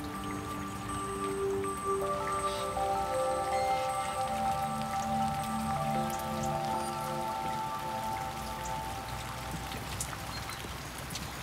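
Steady rain patters and drips nearby onto a garden pond at the foot of the Jura, with soft sustained tones humming underneath throughout.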